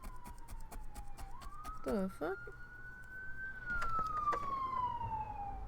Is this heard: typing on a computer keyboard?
no